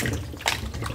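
A small amount of DIY produce wash mixed into a basin of water, giving close sloshing and swirling water sounds with a brief louder splash midway.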